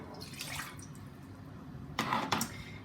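Three-quarters of a cup of water pours from a measuring cup into a pot while mixing the wet ingredients for homemade playdough, a soft trickle and splashing that swell briefly near the end, fairly faint.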